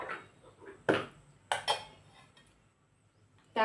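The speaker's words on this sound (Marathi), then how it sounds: "त्यासाठी गॅसवरती पॅन ठेवायचा" A pan is set onto a gas stove while a thick spice paste is being readied for a dry cluster-bean stir-fry. Three or four sharp metallic clanks and knocks come close by, separated by quiet gaps.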